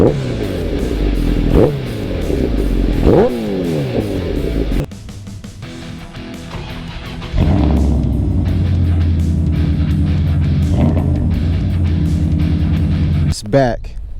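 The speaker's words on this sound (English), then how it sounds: "Give you guys a couple revs here." A Honda CBR 1100 motorcycle engine idles loud and close, then is blipped through several quick revs that rise and fall, with a lower idle stretch in between and a sharp final rev.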